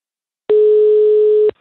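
A single steady telephone tone, about one second long, sounds loud and clean against silence while a call is being placed to a person named Ana.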